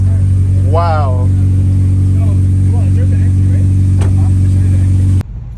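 A 9th gen Honda Civic Si cruises with a loud, steady engine drone close by, while a voice speaks briefly over it before the sound cuts off abruptly near the end.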